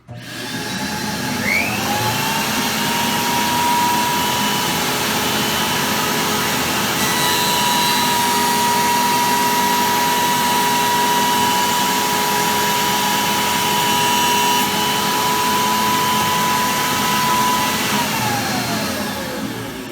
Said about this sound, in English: This is the first cut test on the Cutech 8-inch jointer.